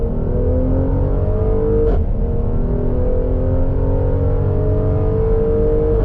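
Mercedes-AMG C43 engine droning steadily from inside the cabin, a continuous loud hum with tones that rise slightly, one brief shift dip midway, no talking.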